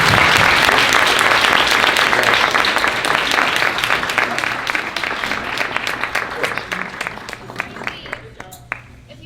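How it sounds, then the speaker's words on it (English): An audience applauds candidates after a youth-issues debate held by Global Shapers Halifax, dense clapping at first that gradually thins into scattered individual claps as it dies away. "please give a round of applause to our candidates"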